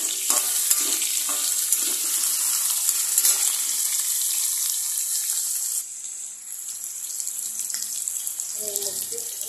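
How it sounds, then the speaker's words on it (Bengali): Potatoes frying in hot oil for aloo posto, a dense continuous sizzle with occasional stirring, steady and close throughout, easing slightly toward the end. "এটাকে পুরোটা আগে ভেজে নেব আলুগুলোকে"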